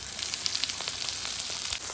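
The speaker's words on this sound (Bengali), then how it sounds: "এই যে মাছ ভেজেছিলাম, তার মধ্যেই আমি এই পেঁয়াজ ভাজার জন্য দিয়ে দিলাম পেঁয়াজটা" Onions fry in the leftover oil from cooked fish in a pan, a steady, bright hiss of sizzling with small crackling pops throughout, close by and continuous.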